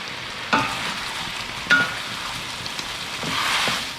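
Bicol express fries in hot oil in a stainless wok, a constant sizzle broken by two sharp pops or stirring clacks, swelling louder toward the end, with no talking.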